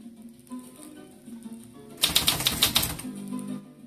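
Keys struck on a mechanical typewriter, a burst of rapid clacking keystrokes in the middle of the clip, close and fairly loud, after quieter faint mechanical sounds with no talking.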